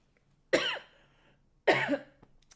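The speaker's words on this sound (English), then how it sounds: "You see me, I coughing and shit." Two separate coughs, close and fairly loud, about a second apart, each a harsh burst trailing off, with quiet in between.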